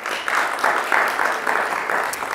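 An evening theater audience at the Lincoln Theater applauds sponsor Horch Roofing, a steady mass of clapping that swells slightly and holds at a fairly loud, close level throughout.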